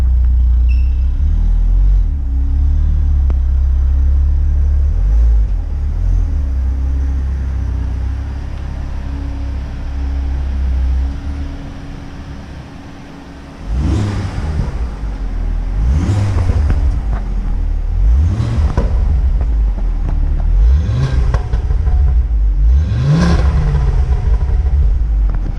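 An Audi S3 with coilovers backs in, its engine revving in a series of about five loud, rising bursts over a steady idle rumble, close by.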